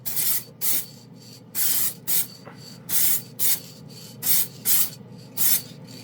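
Chrome spray paint hissing from an aerosol can in a series of short, sharp bursts, about nine spurts with brief pauses between them, close and loud, with no talking.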